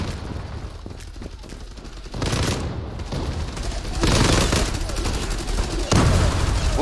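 Gunfire in the Turkish online shooter Zula, several loud bursts of automatic fire that swell in separate waves, with players talking over the shooting.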